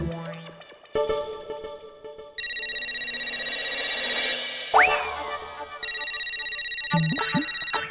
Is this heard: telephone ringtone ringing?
yes